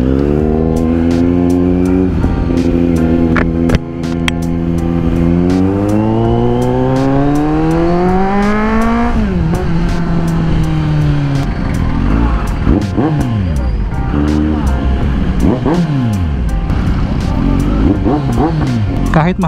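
A Kawasaki motorcycle engine at a Kawasaki dealership in Las Piñas revs loudly and close, climbing steadily in pitch for several seconds before dropping and then blipping repeatedly in sharp rising and falling surges.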